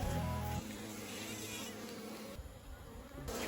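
Honeybees buzzing en masse in collective defense against hornets, a faint continuous droning hum with a brief louder burst at the start, heard from close by outdoors.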